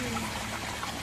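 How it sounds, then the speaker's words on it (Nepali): Hot water is poured slowly into a pot of momo broth, a soft, steady trickling and splashing that stays low and even throughout. "अब यो पोइन्टमा चाहिँ हामीले तातो पानी हाल्छौँ है।"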